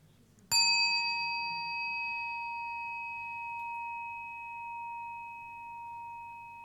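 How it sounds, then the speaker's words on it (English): A meditation bell is struck once, giving a sharp attack and then a pure, sustained ring with clear overtones that fades slowly over several seconds in a quiet room, with no voices. "And you invite the bell to sound."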